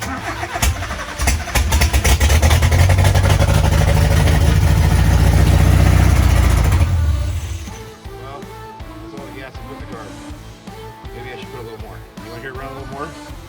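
A rebuilt 2.2-litre Mazda B2200 engine cranks with rapid churning, catches and runs loudly for several seconds before dropping to a lower, rougher idle, with someone talking over it.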